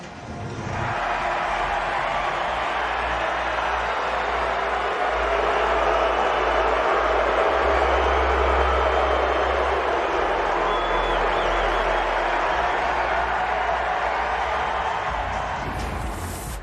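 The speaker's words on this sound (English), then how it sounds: "the crowd here at Dodger Stadium booing the umpires for that foreign substance check" A large baseball crowd at Dodger Stadium roars and boos the umpires over a foreign substance check, a steady broad wall of voices that swells in the middle and holds throughout.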